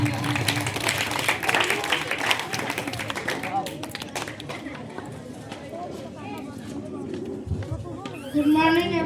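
Audience applause for a class 5 student called up at a school block-level debate competition, a dense burst of clapping that fades over several seconds before a voice begins speaking.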